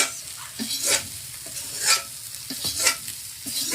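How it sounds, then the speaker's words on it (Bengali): Puti fish being stirred and fried in a pan: a low sizzle with rhythmic spatula strokes about once a second, each a brief scraping swish, close by and free of speech. "এখানে আছে পুঁটি মাছের রান্না শুরু হবে এখন"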